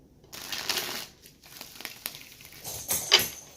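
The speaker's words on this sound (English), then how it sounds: "And I'm going to cut the deck here." Soft papery rustling and crinkling of a deck of tarot cards being cut, close and quiet, in short uneven bursts with no talking.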